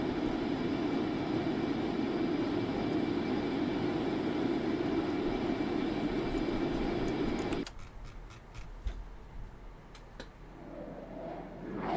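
Concorde engines roaring in a flight simulator game while cruising at Mach 2.2, a loud steady broadband rumble for about eight seconds that then drops to a quieter cabin hum with scattered clicks.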